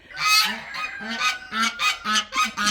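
Guinea fowl calling noisily near their guinea house, a loud run of repeated harsh honking cries in quick bursts with no voices.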